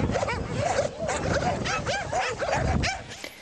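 Many dogs bark and yip continuously at a snowed-in animal shelter at Glina, with overlapping near and distant barks forming a dense, agitated chorus.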